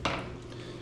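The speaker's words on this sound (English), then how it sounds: "what I want to do is go through and kind of flip it over" A single sharp clack as a piece of deer jerky is flipped over on a metal dehydrator grate, a brief close tap that fades quickly with no voices.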